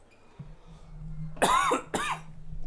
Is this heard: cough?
yes